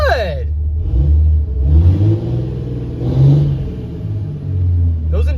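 Cummins diesel engine revving inside a garage, loud low rumble rising in a couple of swells over several seconds, with someone speaking over it.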